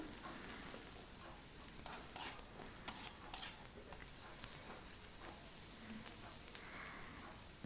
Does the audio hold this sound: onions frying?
yes